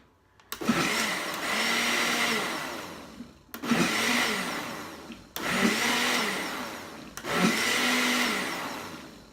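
A blender whirs in four short pulses while mixing a thickening facial moisturizer, each starting with a hard jolt then settling into a steady roaring grind before cutting off.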